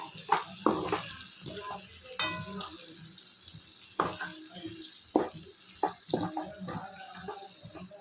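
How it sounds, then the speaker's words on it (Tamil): Ground masala stirred into chicken frying in a pan, giving a steady hiss and sizzle broken by sharp scraping and clattering strokes of a spatula, close up. "இது இப்போ இந்த மசாலாவை இதில் சேர்க்க போகிறோம். நல்லா கலந்து விட்டுக்கணுங்க."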